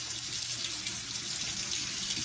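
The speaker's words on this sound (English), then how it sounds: "you gotta rinse your rice" Kitchen tap water runs steadily into a bowl to rinse rice for homemade sushi, a continuous hissing splash close by with no talking.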